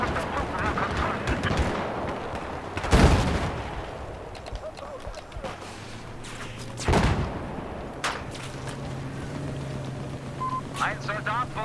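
Battlefield 4 multiplayer gunfire: two loud, sharp shots about four seconds apart, ringing out among scattered distant firing and game noise, while players talk over it.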